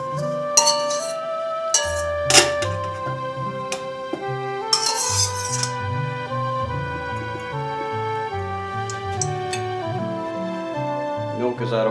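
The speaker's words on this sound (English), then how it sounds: "So we are going to move this back into the small mixing bowl" Custard mixture is moved into a small mixing bowl with a few sharp clinks of utensil against bowl, while background music with piano-like tones carries through.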